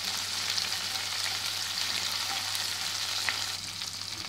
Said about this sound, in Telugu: ఇప్పుడు ఇందులో క్యాష్యూస్ వేస్తున్నాను